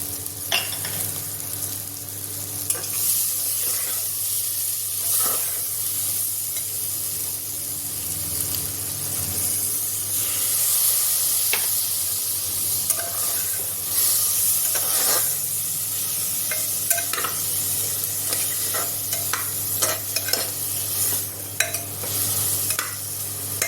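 Spices being fried and stirred in a pan while cooking begun bhapa, a soft continuous sizzle with scattered scraping clicks of a spoon against the pan, close by, over a steady low hum, with no talk.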